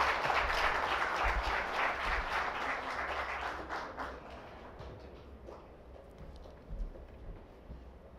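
Applause from an audience at an oral health summit on World Oral Health Day, loud and dense at first, then thinning and fading to scattered claps.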